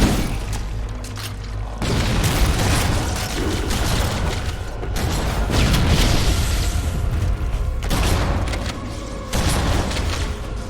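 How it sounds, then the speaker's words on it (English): Explosion in Halo: Combat Evolved, a loud booming blast with rumbling bursts and mechanical game noise rolling on continuously. "Big kaboom."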